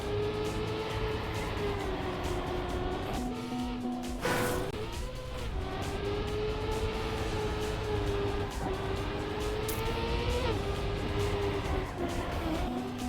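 Race car in the Trackmania video game drifting through corners, its steady engine drone shifting pitch as it slides, with occasional brief tire noise, continuous and fairly loud with no talk over it.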